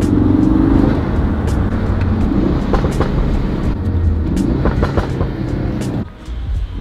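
A Ford Focus RS/ST fitted with a cheap aftermarket intake, a loud steady engine drone from close by with whooshing turbo and intake noises rising and falling, then easing off near the end.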